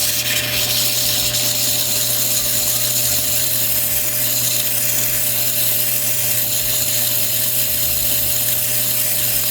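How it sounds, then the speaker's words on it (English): A flat spot is ground by hand onto a Montana sapphire against a spinning lap. It makes a steady, loud, continuous mechanical whir with a constant hum and no pauses throughout. "So you just grind that flat spot by hand."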